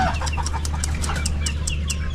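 Farm chickens cluck steadily in a close, busy chorus of repeated short calls over a constant low rural hum, with no talk.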